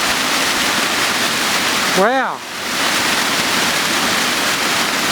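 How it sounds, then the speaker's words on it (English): Main fall at Barry Falls rushing in a steady, loud roar of water heard close by, with one short excited exclamation from a man briefly rising above the constant torrent. "Now I've come back down here to the main waterfall."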